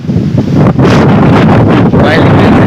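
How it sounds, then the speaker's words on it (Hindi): Strong wind roars steadily against the microphone outdoors under storm clouds in Pakistan, a dense buffeting rush with gusty surges throughout. "इतनी तेज़ हवा चल रही है"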